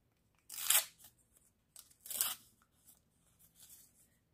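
Paper surprise packet being torn open, two sharp close tearing rips followed by softer crinkling and rustling of paper, with no talk.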